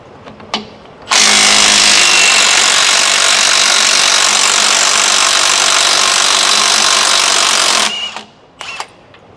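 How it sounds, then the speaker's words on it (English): Power tool with a 28mm socket loosening and removing bolts on a Class A motorhome's steering: a loud, steady whirring burst lasting about seven seconds, framed by a few brief clicks and knocks. "We're going to take a 28mm socket and pull these two off"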